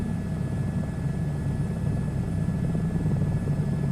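Helicopter flying at high cruise speed in a VR flight simulator, a loud, steady low rotor thrum and engine drone that fills the whole four seconds with no voices.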